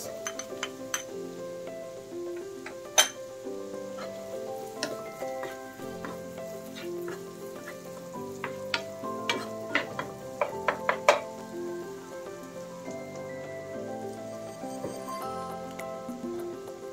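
Onions sizzle and are stirred in a frying pan, a soft steady hiss broken by scraping strokes and clinks of a utensil against the metal, with occasional sharper taps.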